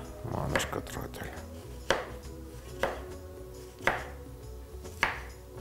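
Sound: chopping food finely on a board

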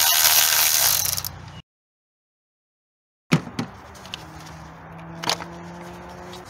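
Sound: ratchet removing 10 mm ignition coil bolts, 2016 Honda CR-V

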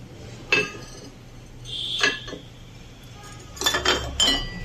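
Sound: ceramic print dinner plates clinking as they are handled

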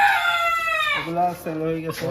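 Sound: foreign breed chickens on a farm, rooster crowing

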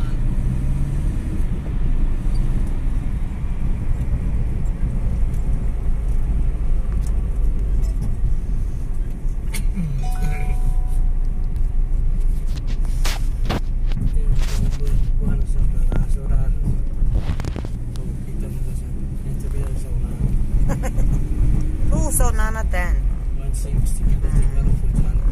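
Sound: passing cars and road traffic

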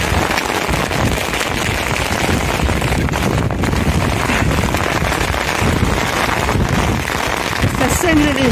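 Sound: rain and wind

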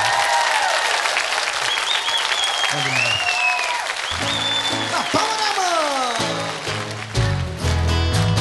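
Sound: audience applause

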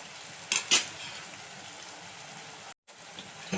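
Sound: chili paste cooking in a pan

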